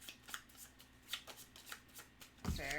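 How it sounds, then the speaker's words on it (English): A deck of game cards from a Pathfinder adventure card game is shuffled in a series of quick, soft riffling bursts, close and fairly quiet, ending in a brief louder rustle. "And then shuffle the rest."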